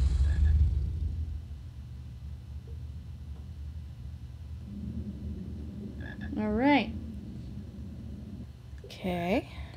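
Croaking frog in the Harry Potter and the Philosopher's Stone PC game, two short rising croaks heard late over a low ambient game hum.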